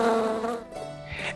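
Bees swarming and buzzing, a close, loud insect drone that wavers in pitch for about a second, then thins and fades while the hum carries on more faintly.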